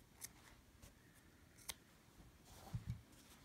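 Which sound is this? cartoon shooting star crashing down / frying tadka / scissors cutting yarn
scissors cutting yarn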